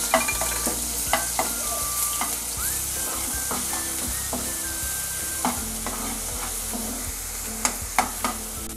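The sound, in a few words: bay leaves and ginger garlic paste frying in oil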